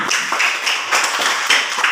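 A class of students claps hands in a brief, quick patter of applause, fairly close and sustained without a pause.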